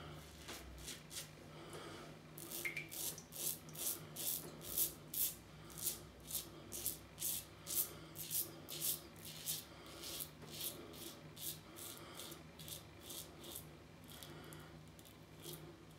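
Razor strokes with a Rapira Super Stainless blade scraping across lathered facial skin around the mustache, a quick regular series of close, crisp rasping swipes repeating steadily, quiet and alone.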